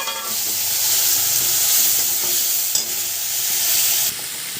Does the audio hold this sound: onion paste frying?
yes